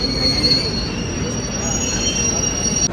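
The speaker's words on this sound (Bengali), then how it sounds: "এই আমাদের ট্রেন বেলদা ছেড়ে গেল" The 12073 Jan Shatabdi Express rolls out of Belda station with a steady rumble and high squealing wheels, loud and continuous from on board.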